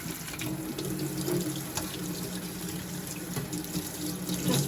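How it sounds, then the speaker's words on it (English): A cold kitchen tap runs steadily over chard leaves in a bowl, a close, continuous hiss and splash with no talk. "and run the cold water again."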